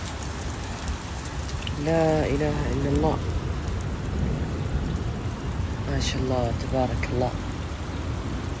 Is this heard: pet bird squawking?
no